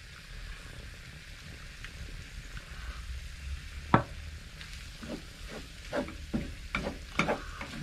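Mince and flour cook in a pan aboard a narrowboat, with a low steady sizzle beneath a run of scraping stirs and clinks of a utensil against the pan.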